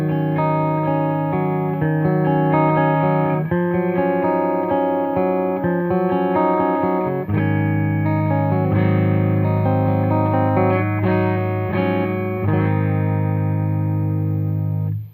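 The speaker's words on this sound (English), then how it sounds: "Here's my clean sound. I'm playing my PRS Custom 24 going into my Fender Deluxe Reverb." Clean electric guitar tone from a PRS Custom 24 played through a Fender Deluxe Reverb amp with light amp reverb, ringing chords and single notes sustaining steadily with no talking.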